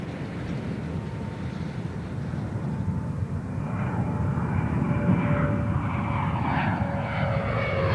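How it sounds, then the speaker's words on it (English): Space Shuttle Endeavour touching down on the runway, heard as a continuous loud broadband roar and rumble that swells slightly and holds steady, with no voices. "Power Pro deploying drag chute that'll help slow Endeavour on the runway."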